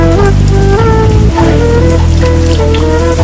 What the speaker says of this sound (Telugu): ఏంటి వర్షం ఇలా పడుతుంది?